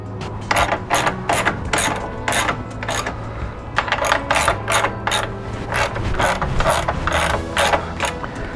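Bolts are snugged up with a ratchet while fitting heel guards and foot pegs on a Yamaha YFZ450R: rapid bursts of sharp metallic clicking repeat over and over, close and loud, with brief pauses between strokes.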